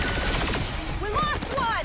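Rapid gunfire bursts in the turn-based strategy game XCOM 2, played on Ironman Legend difficulty, with a sharp whistling sweep of weapon or alien effects layered over the shots, loud and dense throughout the short moment.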